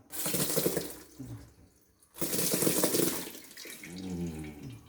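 Liquid pours into a jar for homemade lubica wine in two steady splashing bursts separated by a brief pause, close and fairly loud.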